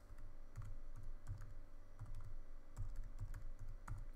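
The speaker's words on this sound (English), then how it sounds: "Type in the IP address of the copier." Someone types an IP address on a computer keyboard: quiet, close clusters of key taps in short bursts with brief pauses between them, and no talking.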